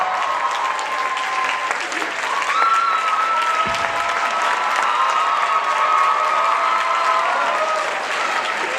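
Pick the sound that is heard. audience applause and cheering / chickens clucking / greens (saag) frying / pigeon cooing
audience applause and cheering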